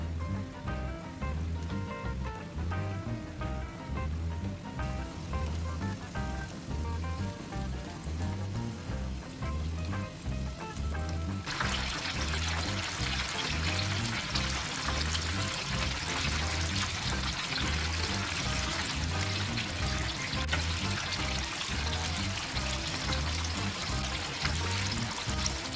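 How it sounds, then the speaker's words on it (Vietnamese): Fried bao dumplings made from plain wheat flour dough bubble in hot oil in a pan, a dense, steady crackle like rain that turns brighter and louder partway through and continues without pause. "Mình sẽ chiên bánh đến khi vàng đều thì vớt ra."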